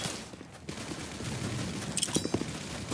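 Gunfire rattles in a shooter video game as a player fires at a downed enemy: a dense burst of shots, with a quick cluster of sharp cracks near the end over steady game noise.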